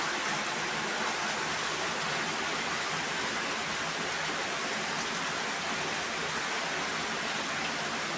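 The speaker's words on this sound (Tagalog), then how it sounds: "Napakalakas po ang ulan dito." Heavy rain pours down in a steady, dense hiss that stays constant throughout, with no voices.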